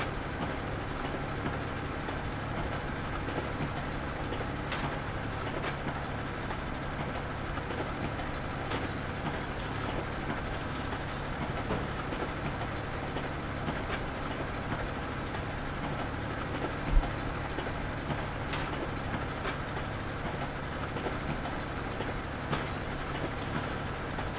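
A Krone Ultima CF 155 XC baler working in Farming Simulator 2015 gives a steady, droning mechanical hum with a faint engine note, punctuated by a few sharp clicks and one brief thud, no talk.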